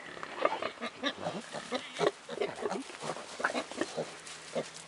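Pigs grunting and snuffling on a farm in winter, a run of short, close grunts and snorts in quick irregular succession, with a person calling to them now and then.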